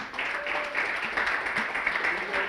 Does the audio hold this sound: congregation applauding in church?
yes